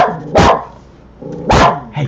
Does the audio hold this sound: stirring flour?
no